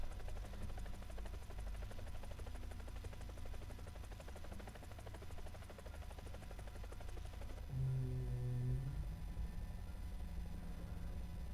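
Lynx helicopter flying in War Thunder, a steady broadband rotor and turbine drone holding throughout, with a low engine tone rising and shifting near the end, no talk over it.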